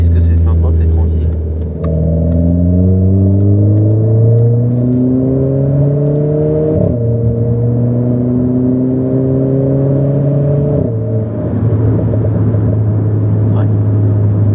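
A Renault Clio 4 RS cruises on a small road, its engine humming close and steady as the pitch rises through several gear changes, with someone talking over the drone.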